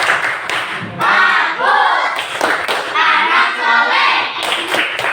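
A class of children performs the rhythmic 'tepuk anak soleh' clapping chant, many voices chanting together in unison over sharp, regular claps, loud and close.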